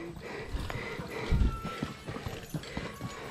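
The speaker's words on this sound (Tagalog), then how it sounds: "Kabayo dumadaan." A horse's hooves clip-clop along a roadside in Laurel, Batangas as it passes, steady irregular knocks at moderate distance over outdoor ambience with faint background noise.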